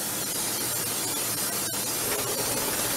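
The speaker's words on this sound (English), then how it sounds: "spray it down a little bit," Cooking spray misting into a glass baking dish, a loud continuous hiss close by that holds steady for a few seconds with a brief break partway through.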